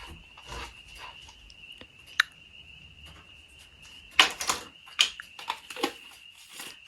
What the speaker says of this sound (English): Hearing the frogs sing puts me to sleep.